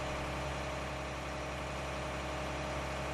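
Tractor engine idling in the Farming Simulator 19 video game, a steady low rumble that holds without change for the whole stretch, with no talk over it.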